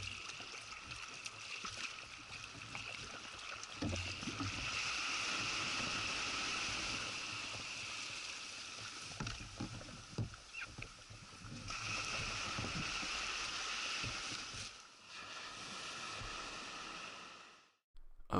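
A kayak paddling along the coast of Zayas Island, with steady rushing water and wind noise, soft splashing paddle strokes and faint knocks before the sound cuts out near the end.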